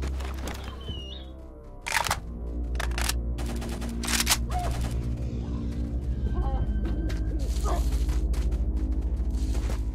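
Rifle fire from a .30 caliber weapon in the shooter game STALKER Lost Alpha, a few sharp cracks early on set against a constant low droning game ambience.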